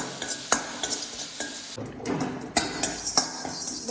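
Coriander seeds and lentils dry-roast in a pan for Kerala-style rasam, a soft continuous rustling sizzle broken by sharp clinks and scrapes of a spoon stirring against the metal, close and alone.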